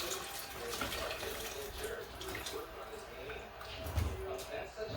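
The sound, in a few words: heated soup being poured into a blender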